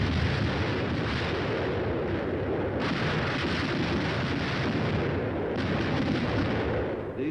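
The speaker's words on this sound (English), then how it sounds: "The air bursts fired by a battalion of 105mm howitzers present a lively show." Air bursts from a battalion of 105mm howitzers roll together into a loud, sustained rumbling barrage with no distinct gaps, booming continuously throughout.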